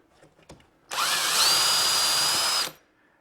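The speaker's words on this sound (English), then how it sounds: "The first hole I want to drill is for a pin that engages the runner." A single power drill burst into wood lasting under two seconds, revving up with a rising whine then a steady high-pitched drone, close and loud, stopping abruptly.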